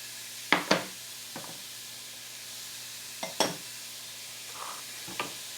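Chopped yellow onion and celery hit an already hot frying pan with little oil, giving a soft sizzle beneath several sharp clacks of a spoon or spatula stirring against the pan.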